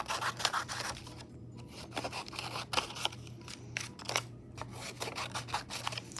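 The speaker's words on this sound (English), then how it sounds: "When you cut, thumbs are always up, scissors stay in the same place, open and close" Scissors snip paper repeatedly, cutting out mouse shapes in short, crisp bursts, close and fairly quiet, with brief pauses between cuts.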